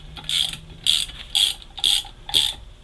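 A ratchet wrench snugs down an engine stand mounting bolt fitted with extra washers on a British 1275 racing engine, giving five loud, close ratcheting bursts in a steady rhythm with short pauses between strokes.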